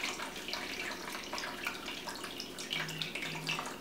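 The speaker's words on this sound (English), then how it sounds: "what I'm gonna do is I'm gonna drain this liquid" Liquid drained from blended ginger runs and trickles into a container, a faint continuous watery pour with light splashes and drips, with no voices.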